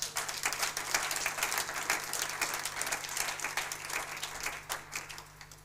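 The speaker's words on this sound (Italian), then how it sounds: "Fai un applauso per Gesù." A church congregation applauds during a sermon, with scattered clapping that pulses and slowly thins toward the end over a faint low hum.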